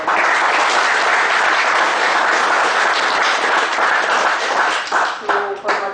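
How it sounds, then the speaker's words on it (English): An audience at a GST workshop gives a dense, sustained round of applause that is loud and close, tapering off near the end as a voice begins to speak. "Big round of applause."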